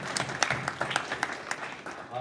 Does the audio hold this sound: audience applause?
yes